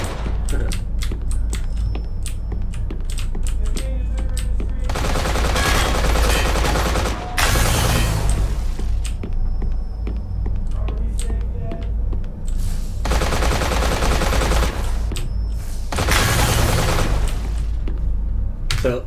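Sustained machine-gun fire in a video game, dense rapid bursts with loud stretches of heavy automatic shooting and shell spray, continuous throughout with brief lulls between volleys.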